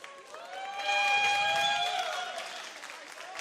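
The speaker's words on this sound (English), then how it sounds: "Can we get a round of applause?" A crowd claps and cheers for a few seconds at an antweight robot combat tournament, swelling then fading slightly, with a sustained tonal ring over the applause.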